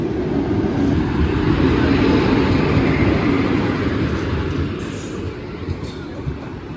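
A train rumbles past nearby with a steady heavy roll, and high-pitched squeals of wheels on rails cut in briefly toward the end.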